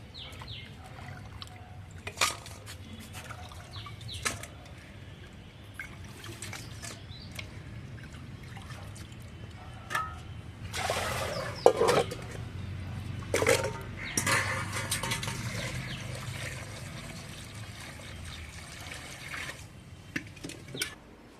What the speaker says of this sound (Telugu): మా అమ్మ చికెన్ తీసుకొచ్చిన బిర్యానీకి చికెన్ కడుగుతూ ఉంది.